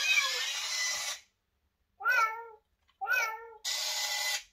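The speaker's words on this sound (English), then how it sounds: "That is a mechanical cat." A Toy Quest mechanical toy cat lets out harsh electronic meows: a long buzzy burst, two short warbling meows, then another long burst, loud and close, separated by silences.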